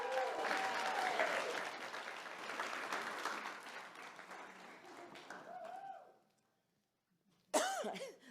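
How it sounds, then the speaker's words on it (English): An audience applauds with broad, sustained clapping for about six seconds while coughs and throat clearing break through, then a brief silence before a sharp burst of sound returns near the end. "give yourselves a round of applause"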